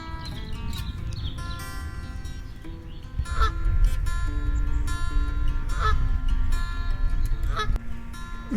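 Canada geese honking repeatedly at a nature reserve, the calls recurring every couple of seconds over a steady outdoor background.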